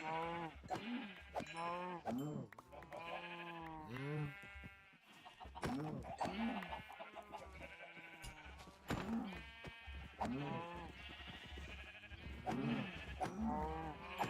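Sheep in Minecraft bleat over and over in a close, steady series of wavering calls, with no voices in between.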